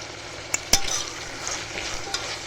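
Chopped vegetables sautéing in a pan for wheat rava upma, a soft continuous sizzle with a few crisp spoon scrapes and taps against the pan, close up and without talk.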